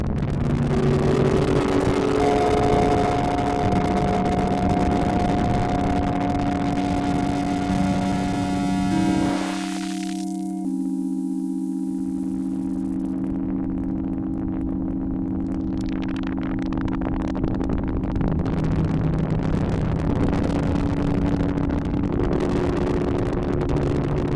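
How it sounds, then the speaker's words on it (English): A held Yamaha CS-50 analog synthesizer chord, its filter modulated by noise through the LFO, shifting and sweeping, dropping away briefly mid-way before the hissy, wobbling texture returns; continuous and steady without voices. "That's VCF modulation using noise with the LFO."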